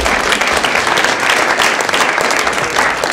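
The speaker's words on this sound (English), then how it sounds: "can we give them a light applause?" Audience applause at a performance, a dense, steady wash of many hands clapping, loud and close, with no pause.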